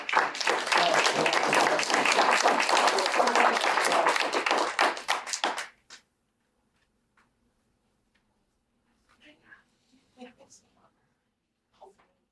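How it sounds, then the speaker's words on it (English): An audience at a community program meeting breaks into loud, full applause that runs for several seconds, then cuts off abruptly into near silence broken only by a few faint, scattered taps and small noises. "So let's give a round of applause"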